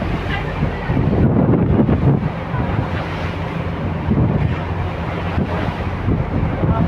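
Wind buffets the microphone while rough sea waves churn and slap around a small tender boat ferrying passengers off Santorini. The loud, steady rush of wind and surf fills the clip with no talking.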